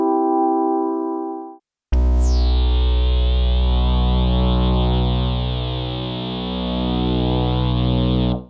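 A Novation MiniNova synthesizer plays a short clean tone, then a loud sustained note heavily altered by effects such as distortion and chorus, with a bright sweeping attack and a rich, slowly wavering buzz that holds for several seconds.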